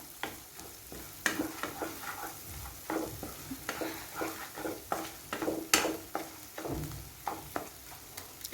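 Pirandai paste sautés in oil for pirandai rice with a soft sizzle, broken by repeated scraping and tapping strokes from a stirring spoon. The sounds come close and somewhat quiet, with no speech.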